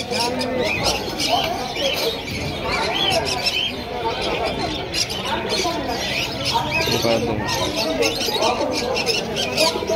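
Pigeons at the Krishnagar pigeon market, continuous cooing, squawks and chirps mixed with a busy crowd babble and nearby voices throughout.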